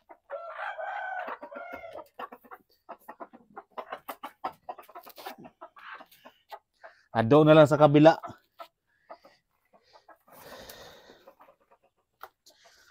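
Chickens and a newly bought purebred rooster in a backyard poultry pen: one loud, close crow-like call stands out among scattered clucks, with someone talking over much of it.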